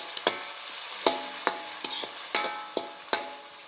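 A spoon scrapes and stirs a Manchurian gravy sauce of dark soy sauce and red chili sauce in a pan with sharp, irregular clacks over a soft bubbling sizzle, close and fairly quiet.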